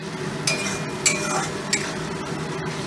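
Spices being stirred into onions in a pan, with a few distinct scraping strokes of a spoon against the pan over a steady low frying hiss.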